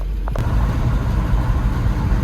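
An old Krusty K10 car cruising at about thirty with a horrible engine noise gives a steady low rumbling drone, close and continuous, with a brief higher tick near the start.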